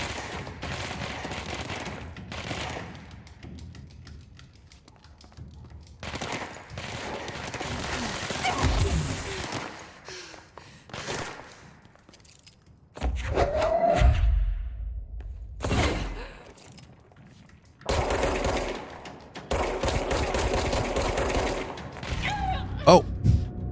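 Bursts of gunfire and heavy impacts from the video game Control come in loud clustered volleys with quieter gaps between, some rapid automatic fire, and whooshing effects mixed in.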